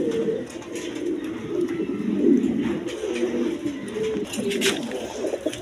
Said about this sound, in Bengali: ড্রাগন কবুতর দেখেন, দেখার মতো কবুতর